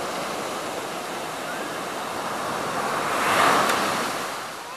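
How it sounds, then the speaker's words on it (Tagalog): Big ocean waves surge and crash continuously, a broad roaring wash that swells louder near the end, with wind across the microphone. "Wow, sarap talaga ng hangin. Laki ng alon, no?"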